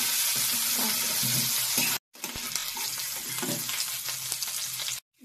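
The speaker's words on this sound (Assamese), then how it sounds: "আলুকেইটা ফ্ৰাই কৰি ল'ম।" Potatoes fry in a pan with a loud, dense, continuous sizzle, broken by two abrupt silent cuts.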